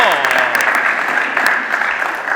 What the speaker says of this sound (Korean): 산체스 선수마저 네, 박수를 치게 만드는 정말 담대한 샷입니다.